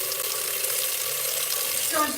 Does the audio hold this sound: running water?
yes